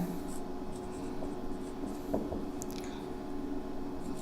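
A pen scratches across paper as someone writes out a geometry problem, making soft continuous scribbling with a few small taps, quiet and close against a faint steady hum.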